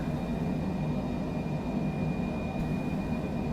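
Steady low drone of a Citation Longitude business jet's engines in Microsoft Flight Simulator, a constant rumbling hum with a faint high whine running through it, unchanging and without voices.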